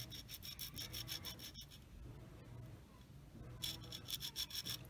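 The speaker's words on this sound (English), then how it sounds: "carefully sand it to match the contour" Sandpaper rubs along a model aircraft fuselage to match its contour, heard as quiet, close, rhythmic back-and-forth rasping strokes in two bursts separated by a calmer stretch.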